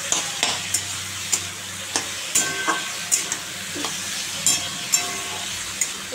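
Pumpkin slices seasoned with salt and turmeric fry in a pan, with a steady close sizzle and regular sharp taps and scrapes as a spatula turns them, about one every half second.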